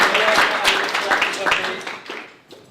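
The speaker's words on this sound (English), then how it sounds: "So if we can get a round of applause for Big," Applause at a hackathon prize giving, a steady patter of clapping from the audience that fades toward the end, with some voices mixed in.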